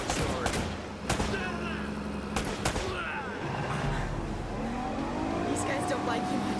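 Video game gunfire in Uncharted: Drake's Fortune, with sharp bursts of shots among engine and vehicle noise during a chase. Characters talk over the action throughout.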